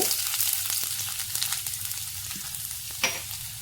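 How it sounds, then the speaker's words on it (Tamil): Fennel seeds crackle in hot oil, producing a dense close sizzle peppered with rapid tiny pops and a sharper crack near the end. "எண்ணெய் காஞ்சிருச்சு கொஞ்சமாக சோம்பு சேர்த்துக்கலாம் சோம்பு நல்லா பொரிஞ்சோன்னே"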